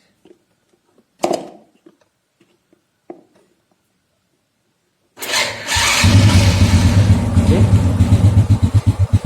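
A Honda Supra Fit motorcycle with a worn-out starter bendix: a few clicks and short attempts, then a long stretch of rapid, rhythmic, loud starter grinding and engine churning. Someone speaks briefly early on.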